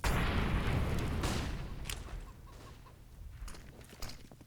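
A chicken clucking on the Italian countryside map of Counter-Strike during a professional match, brief clucks following a loud boom and heavy game noise, then quieter ambience.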